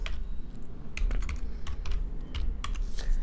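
Typing on a Mac keyboard to enter a Maven command in a terminal, with a short burst of close, crisp key clicks at irregular intervals over a low room hum.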